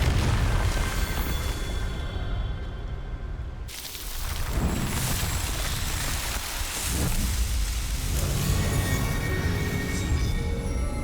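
Confringo fire spell blasting in the video game Hogwarts Legacy: loud, dense explosive rumble and crackle with a sharp burst partway through, continuing as a roaring wash.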